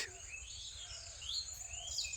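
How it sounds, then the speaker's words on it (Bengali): Birds calling in a dense jungle garden in a Bangladeshi village, several faint high chirps and whistles drifting from a distance over a low steady background hum, with no one talking. "তো খুব সুন্দর পাখির ডাক"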